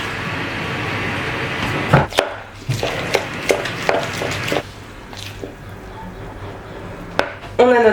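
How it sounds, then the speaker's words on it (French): Healthy bowl cake batter is stirred in a bowl, with close scraping, tapping and clinking of a utensil against the dish in irregular strokes and no talk. "Et on mélange."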